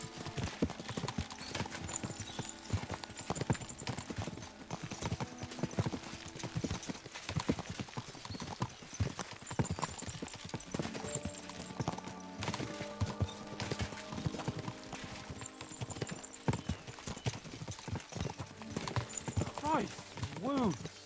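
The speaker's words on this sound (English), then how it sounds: "We should spur the horses on." Horses gallop in Kingdom Come Deliverance 2, their hooves clip-clopping in a steady, loud, continuous rhythm throughout, with occasional whinnies and game voices talking over the pounding.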